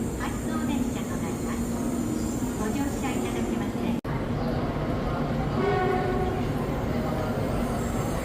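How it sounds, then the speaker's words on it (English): A train pulls up to a station platform in Japan with a loud, continuous rolling rumble and a horn-like tone, heard up close for the whole stretch. Faint voices mix in under the rail noise. "we're waiting here on the platform for our train to head to"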